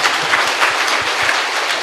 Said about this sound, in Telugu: ఒకసారి మళ్ళీ చప్పట్లు కొడదాం